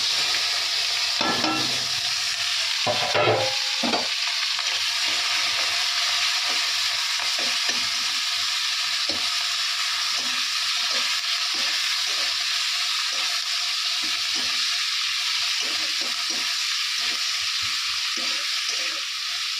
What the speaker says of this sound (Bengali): ভাজা হয়ে গেছে আমি পেঁয়াজ আর লঙ্কাগুলো দিয়ে দেবো